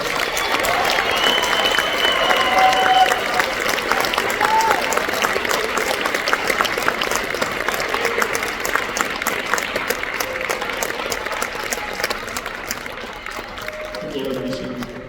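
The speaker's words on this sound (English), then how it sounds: "Let's give these students a round of applause." Audience applause for 8th and 9th grade honor band students at an all-district concert, a steady dense wash of many hands clapping that holds throughout and thins slightly near the end.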